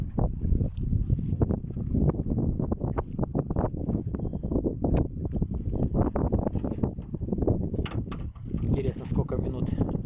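Motorboat crossing the Volga river, its outboard motor droning steadily with heavy wind buffeting the microphone throughout, while someone talks over it.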